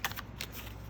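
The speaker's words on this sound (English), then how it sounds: "we are going to just shuffle, shuffle, shuffle. And they are very easy to shuffle." A new tarot deck is shuffled by hand, giving a quick, quiet run of papery riffle bursts close to the listener, over in about a second.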